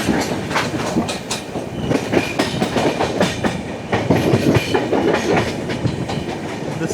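A MEMU electric train runs past on the opposite line, heard from aboard the Kerala Sampark Kranti Express, with a steady close rumble and a busy clickety-clack of wheels over rail joints throughout.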